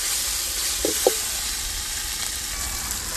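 Onion and tomato frying in a pan for a spicy village-style chicken masala, a steady soft sizzle running throughout with two brief clinks partway through.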